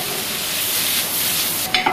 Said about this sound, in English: We'll get our bacon in there. So we'll render off all the fat and crisp it all up.